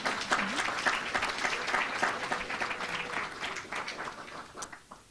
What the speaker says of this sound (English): We can give Aaliyah another round of applause.